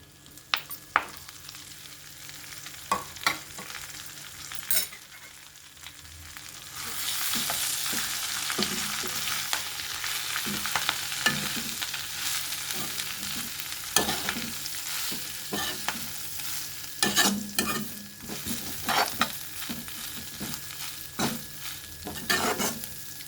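Drumstick (moringa) leaves and curry leaves frying in a little oil for spicy karam podi, soft scattered clicks of stirring, then a broad close sizzle swelling in partway through, punctuated by repeated scraping strokes of the spoon against the pan.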